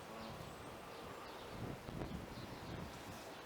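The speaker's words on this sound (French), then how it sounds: "Ah, ça souffle beaucoup trop fort là." Strong wind in a storm gusts steadily against the microphone as a continuous rushing roar, swelling slightly midway, with no voices.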